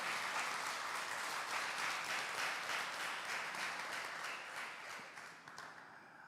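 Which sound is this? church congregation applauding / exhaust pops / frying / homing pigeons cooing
church congregation applauding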